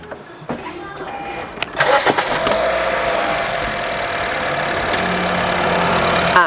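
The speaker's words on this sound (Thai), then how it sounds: "ตอนแรกสตาร์ทมาเครื่องไม่มีสั่นนะครับ เดินนิ่งก็เดินรอบปกตินะครับ" A used 2014 Honda City 1.5 V is cranked and its engine catches after a short whir, then settles into a steady, smooth idle, close and fairly loud, with nobody talking.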